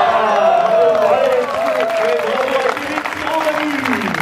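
Spectators applaud and cheer at the Trophée des Sprinters 2015 cycling sprint event in Couëron, a loud sustained wash of clapping with a commentator talking over it.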